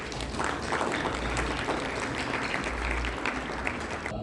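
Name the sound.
audience applause welcoming a speaker to the podium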